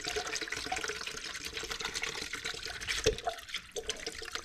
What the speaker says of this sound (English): So you just take the jug, pour it into whatever you're going to do it with.